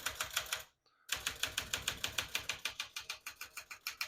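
A 1971 Smith-Corona Super Sterling portable typewriter types in an even, steady run of sharp, close key strikes, broken by one brief silence near the start, with no talking.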